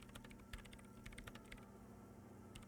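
Rapid, uneven clatter of typing on a computer keyboard in the Disco Elysium video game, with quiet clicky keystrokes in bursts that briefly pause and then resume, no voices.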